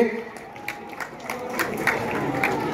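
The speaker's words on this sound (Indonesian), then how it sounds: "Ya, tepuk tangan untuk para ketua DPD kita." Scattered applause rises from a crowd at an Indonesian Democrat party training event, with light, uneven claps over a murmuring hall that thicken slightly toward the end.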